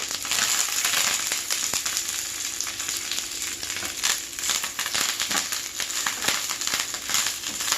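Eight dried red chillies dry roast in a pan for a Telugu toor dal spice powder, giving a steady, close, bright sizzle and crackle with faint scraping from stirring, no talk.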